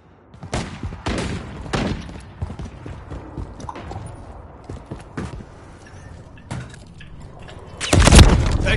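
Gunfire from the Modern Warfare III game: a series of sharp, separated shots and bursts spread irregularly through the stretch, ending in a louder, denser volley, with no voices.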